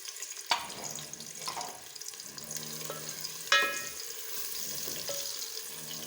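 Onions frying in two spoons of ghee in a pan give a steady, close sizzle, broken by a few sharp clinks of a spoon stirring against the metal.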